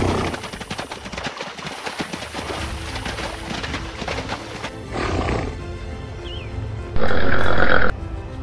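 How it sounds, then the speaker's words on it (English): A stolen draft horse in an animated show snorts, whinnies and makes rough roaring grunts, loud and close, with a shrill neigh-like burst near the end amid other cartoon effects. "a horse that was stolen from Jaycee's farm a few nights ago shows up in the Bronx."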